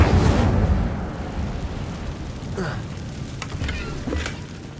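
Incendio fire spell cast in Hogwarts Legacy, a loud burst of roaring, crackling flame at the start that settles into a sustained fiery rumble with a few sharp flickers, no talking.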